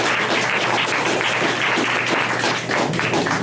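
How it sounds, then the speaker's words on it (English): A presentation audience gives a round of applause, dense steady clapping from a crowd that holds for several seconds without a break. "I want you guys to give Sean a big round of applause"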